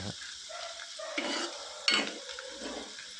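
Onions frying slowly over a low flame as the base for a hotel-style mushroom curry, a steady soft sizzle with a few louder stirring scrapes of a spoon against the pan.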